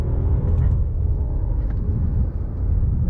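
A BMW F10 with the N55 engine pulls hard under acceleration after a boost solenoid replacement, a heavy low engine rumble droning steadily as heard from inside the car, without talking.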